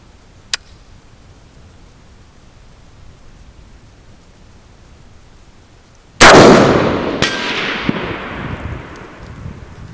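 An AK rifle fires at a target 600 yards away outdoors. After several seconds of quiet, a single loud, sharp blast rolls off into a long echo, with another crack about a second later.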